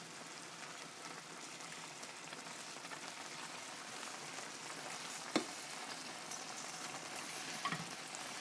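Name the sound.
rice frying in pan while being stirred into mixture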